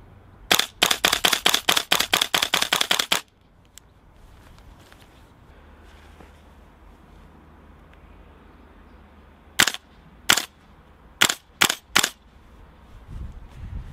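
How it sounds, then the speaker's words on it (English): Cold-weather shots from a VFC HK416A5 gas blowback airsoft rifle: a fast full-auto burst of about a dozen sharp cracks, then a quiet gap, then six slower single shots, loud and close outdoors. "Little cold weather tryouts with the VFC HK416A5. It's a little sluggish,"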